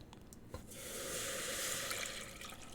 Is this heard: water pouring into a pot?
yes